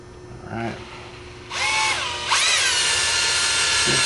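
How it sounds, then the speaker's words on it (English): A power drill drives a threaded part, coated with thread lock, into a PVC pipe fitting for an 18650 battery pack tube, short whirring bursts rising into a loud sustained whine close by. "So with the thread lock on and the drill, I'm going to go ahead and put this in just a little more."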